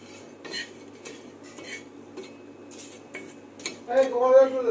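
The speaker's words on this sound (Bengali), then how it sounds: "এদিকে আমি মশলাটা একটু হালকা করে নেড়ে নিই" A spoon scrapes and clinks against a pan as spice paste (masala) is stirred in a home kitchen, with close, irregular taps and scrapes and a rising sizzle near the end.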